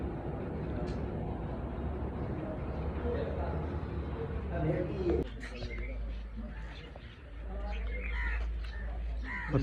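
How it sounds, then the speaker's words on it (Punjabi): A flock of crows caws outdoors in a village, the calls scattered and moderately distant over steady background noise while people talk nearby. "ਕਾਂ ਬੜੇ ਇਕੱਠੇ ਹੋਏ ਆ ਸਾਰੇ"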